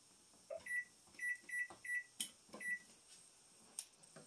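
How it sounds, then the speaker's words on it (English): Kitchen timer being set beside a pot of boiling pasta water, giving a series of about six short, bright electronic beeps in an irregular rhythm, close and clear with no talking. "Let's set the timer."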